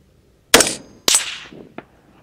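Two loud, sharp cracks from a Winchester 5.56 rifle shooting at steel at 500 yards, each trailing off, followed by a brief faint knock a moment after the second.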